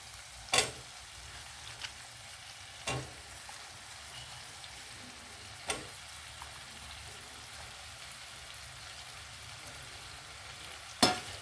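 Brinjal pieces frying in a pan for a brinjal and drumstick curry, a soft continuous sizzle broken by about five sharp clicks or knocks at irregular intervals, no talking.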